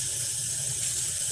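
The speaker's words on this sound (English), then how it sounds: "I'm taking the dishes and I'm placing them in some hot water to soak" Hot water running steadily from a tap into a sink to soak dishes, a continuous close hiss with no voices.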